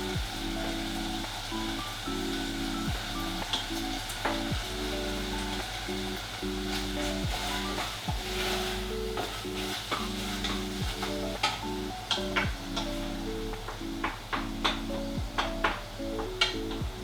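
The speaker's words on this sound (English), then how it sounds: "give it a nice stir around" Minced beef with ketchup being stirred in a hot pan, a continuous low sizzle broken by repeated scraping and tapping of the utensil against the pan, close and with no speech.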